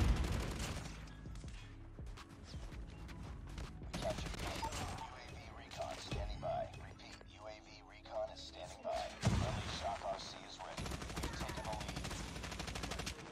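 Rapid gunfire from a RUS-79U rifle in Call of Duty Mobile, dense bursts and single shots cracking throughout amid game effects, with a voice talking over the shooting.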